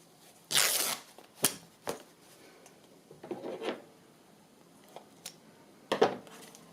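Paper being torn by hand for an accordion journal, heard as several short, separate ripping and crinkling bursts close to the listener, with quiet gaps between them and no talking.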